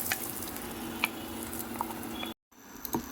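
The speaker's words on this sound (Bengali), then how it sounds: "আমি পুরো মিশ্রণটি কড়াইয়ের মধ্যে দিয়ে দেবো" A rohu fish dhoka mixture bound with gram flour sizzles softly in a wok over lowered heat, a quiet steady crackle with occasional small pops and a brief gap of silence near the end.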